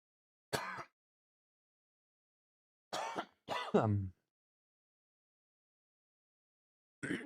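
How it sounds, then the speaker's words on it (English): Several short, isolated coughs and throat-clearing sounds, separated by long stretches of silence, near and fairly quiet. "gonna start coughing"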